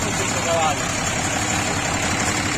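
A John Deere tractor engine idles with a steady, even rumble close by, continuous throughout with no revving or change in pace.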